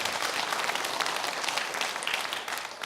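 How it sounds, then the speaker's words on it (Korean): A church congregation applauding together at an early-morning special prayer service, dense steady clapping that fills the room evenly from start to end with no voices on top. "우리 서로서로 격려하고 하나님께 영광 돌리는 박수 한번"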